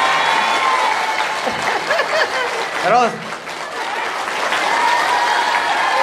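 An audience at a pesantren, an Islamic boarding school, claps loudly and continuously, with a brief dip partway through, while voices talk and chuckle over the applause.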